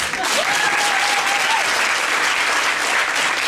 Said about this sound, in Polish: No chyba należą mi się za to brawa